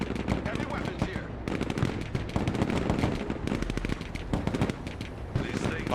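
Rapid automatic gunfire and explosions from the military strategy video game Broken Arrow rattle continuously in dense, overlapping bursts, loud and close throughout.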